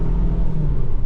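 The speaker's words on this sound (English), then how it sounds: "let's race this car over here" A car engine rumbling loud and close as the car accelerates in a race, a deep steady roar lasting only a moment.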